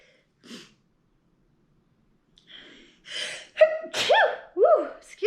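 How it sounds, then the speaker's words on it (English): A single loud, close human sneeze bursts out after a quiet pause and a sharp intake of breath, followed by breathy vocal exclamations. "Ooh, I gotta sneeze."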